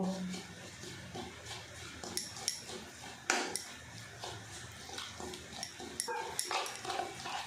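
A masoor dal batter made with garlic, green chilli and salt is whisked in a bowl, giving quiet repeated scraping and clinking strokes against the dish.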